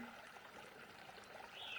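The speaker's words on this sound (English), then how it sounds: "stream or brook plus birds, and again it's nice to have that mixture, so you've got running water plus some background birds" Sound machine playing a stream or brook track with birds: a quiet, steady trickle of running water, with a faint high bird chirp near the end.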